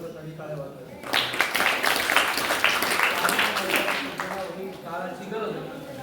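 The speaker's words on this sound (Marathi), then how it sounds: "सर्वसाठी टाळ्या वाजवायच्या" An audience at a children's camp event applauds in a burst of dense clapping that swells and then tapers off, with some voices audible around it.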